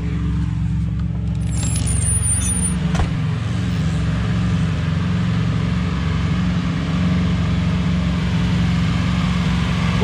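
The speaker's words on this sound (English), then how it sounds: "That's a little Hemi." A small Hemi engine, a 241 Red Ram, runs steadily through its cam break-in outdoors, a continuous loud rumbling drone with no talk over it.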